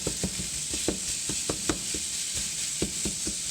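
A frozen 80-20 store-bought beef burger patty sizzles in a pan with a steady hiss, broken by repeated scraping and pressing clicks as it is smashed down with a spatula.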